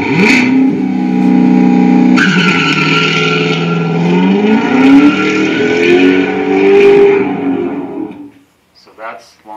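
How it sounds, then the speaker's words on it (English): A Chevrolet C7 Corvette doing a launch-control start with hard acceleration, its engine roaring loud and close as revs climb, flutter and climb again before cutting off. "It's trying to launch you and accelerate as hard as it can."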